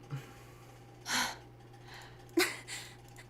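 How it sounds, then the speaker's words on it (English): Characters in the video game Virtue's Last Reward pant and gasp, a few short breathy bursts spaced apart over a faint steady hum, close and fairly quiet. "Skip all their panting."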